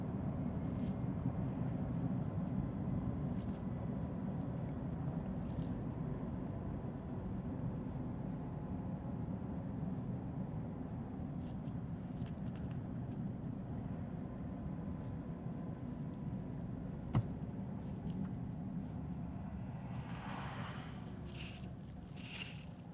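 A Volvo with an Aisin automatic gearbox slows down from sixth gear, its engine and road noise a steady low drone heard from inside the cabin, with a faint click near the end.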